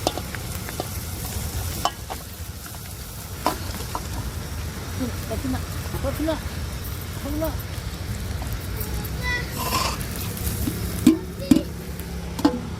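Rice tipped into a pan with tomatoes and capsicum and stirred with a spoon, giving a steady close sizzle and scraping with small clinks, under background noise and brief voice sounds.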